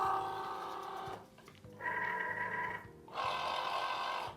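A Cricut Joy Xtra cutting machine opens with two bursts of quiet motorized whirring separated by a short pause, heard alone.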